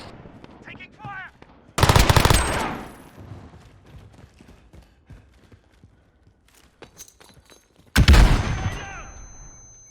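Loud bursts of automatic gunfire in Modern Warfare 2019, two sharp close volleys with quieter distant shots and clatter between them.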